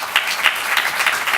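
An audience at a cryptocurrency summit in East Africa applauds in a dense, loud burst of clapping, close and sustained for the whole short stretch.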